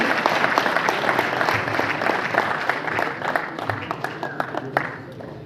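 Audience applause for performers at a public event in Rajouri district: a dense, sustained wash of clapping from a large crowd that thins slightly near the end.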